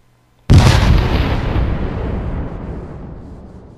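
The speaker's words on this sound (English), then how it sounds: "Errol, Irina, and Nixley heard the explosion from the inn." A single sudden, loud explosion booms out of silence, then its roar slowly decays into a long rumbling tail.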